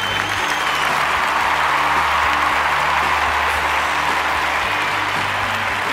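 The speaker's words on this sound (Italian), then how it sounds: "Un grande applauso ai ragazzi del Boca Juniors." A crowd applauds a football team at an award ceremony with dense, steady clapping that holds for the whole stretch, loud and continuous, with no voice over it.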